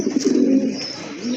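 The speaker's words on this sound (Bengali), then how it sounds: "আরেক জোড়া রাজগোল্লা কবুতর," Rajgolla fancy pigeons, a red pair with crests, cooing close by in a low, steady warble with soft pulsing throbs, no one talking over them.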